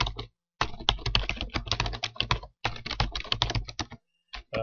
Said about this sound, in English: we'll type in our little worksheet heading, ABC Company, weekly payroll report